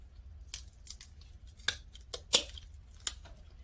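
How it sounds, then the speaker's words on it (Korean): Sharp scissors snip through plant roots packed inside a pot, giving about six crisp, separate cuts at an uneven pace in a quiet room. "이 가위가 잘 들어요."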